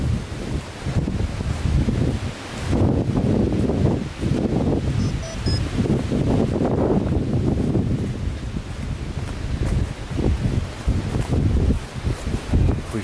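Strong gusts of wind buffet the microphone in an abandoned village in loud, rumbling waves, surging and easing for several seconds with no talking.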